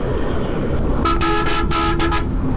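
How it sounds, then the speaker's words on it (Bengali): A small bus on the Dhaka–Tangail highway sounds a loud hydraulic horn in several sharp, tonal blasts, close and piercing over steady road and traffic rumble. "এতটুকু বাস কি হাইড্রোলিক হর্ন! বাসের থেকে তার হর্নের সাইজ বড়।"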